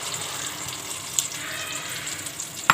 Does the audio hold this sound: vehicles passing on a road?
no